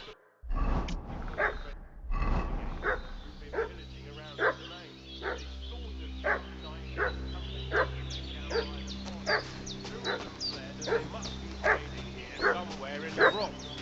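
Dog in Kingdom Come: Deliverance barking repeatedly at a steady pace, sharp mid-distance barks over a low ambient hum, with someone briefly talking at the start.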